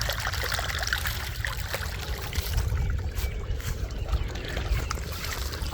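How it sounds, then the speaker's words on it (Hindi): Irrigation water gushes steadily into a wheat field, a close, continuous rushing and trickling flow with faint splashing, unbroken throughout. "देख रहे हैं पानी बड़ी स्पीड से ज़मीन में आ रहा है"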